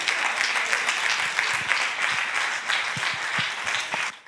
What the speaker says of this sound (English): let's clap our hand and give Jesus a praise tonight